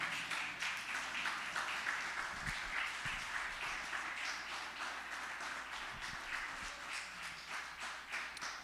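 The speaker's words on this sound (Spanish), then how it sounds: "Damos un fuerte ofrenda de palmas al Señor." Inside a Spanish-language church service, the congregation claps together for the Lord in a continuous, even roll of applause, heard from a slight distance with a few sharper taps near the front.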